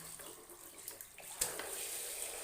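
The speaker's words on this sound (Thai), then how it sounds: "แปรงฟันแล้วก็บ้วนปากนะคะ" Water runs steadily from a tap into a sink while a mouth is rinsed after toothbrushing, a quiet continuous splashing with a few small clicks and one brief sharp clatter midway.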